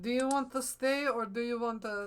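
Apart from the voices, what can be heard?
No distinct noise like a dog, phone or traffic.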